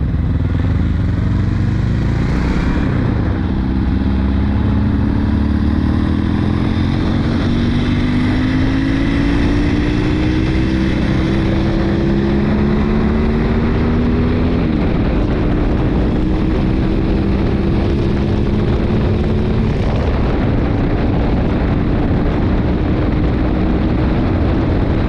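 Steady engine drone of a 1974 Laverda 750 SFC motorcycle underway, with harmonic tones slowly rising and shifting as it rides along, loud and continuous with wind rush.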